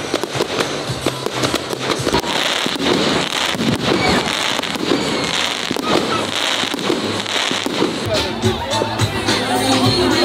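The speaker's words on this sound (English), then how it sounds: "Finally, the fireworks are starting." Continuous fireworks crackle and pop densely, loud and close, after a soccer match, with a crowd murmuring underneath throughout.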